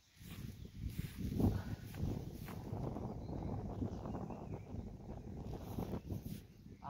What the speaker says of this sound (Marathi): वर येईल तसं तसं वारं जास्त लागतंय.